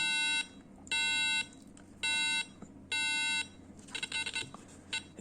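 A shrill Arduino-driven passive buzzer sounds four evenly spaced long beeps as an alarm, each about half a second, followed by a few softer, choppier tones.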